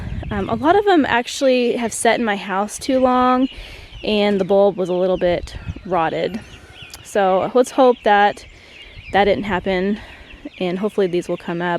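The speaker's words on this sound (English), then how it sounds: "You can hear these chickens in the background." Chickens cluck loudly and repeatedly in a backyard near a small cottage garden, almost continuous bursts with short gaps, while a person talks over them.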